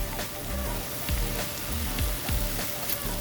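Sliced beef steak for a Philly cheesesteak sizzling in a pan, a steady close crackle with soft scraping stirs now and then.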